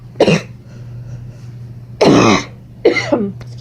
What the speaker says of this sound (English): Excuse me while I cough everywhere.